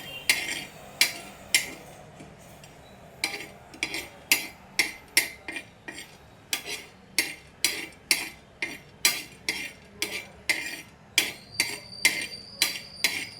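Cloves dry-roasting on a tawa, stirred with a metal utensil that taps and scrapes the pan in a steady, fairly quick rhythm of sharp clinks, close and clear with no talking.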